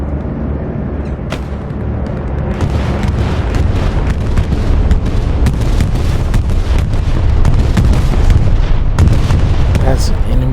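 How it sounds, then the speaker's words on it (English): Enemy bombing run in the Hell Let Loose game, landing close by: a dense, continuous roar of heavy booms and blasts that intensifies after a couple of seconds and stays loud throughout. "That's an enemy bombing run relatively close to me that just almost killed me."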